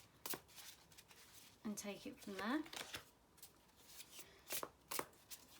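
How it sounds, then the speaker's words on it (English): Quiet riffling and snapping of tarot cards being shuffled in short bursts, with a soft voice speaking briefly in between. "I'm just going to shuffle the cards"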